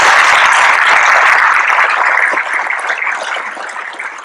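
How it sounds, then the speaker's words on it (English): Audience applause at a 2022 YSC Academy graduation ceremony, a dense wash of clapping honoring the faculty that starts loud and full, then gradually thins and fades over a few seconds. "So please give a round of applause."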